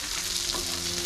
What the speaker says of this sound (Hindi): बोम्बिल फ्राई, बोम्बिल फ्राई चल रहा है।